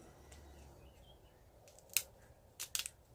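Scissors snipping the tops of rosemary plants, a few crisp close cuts, one single snip then a quick double snip, over a quiet background with no talking.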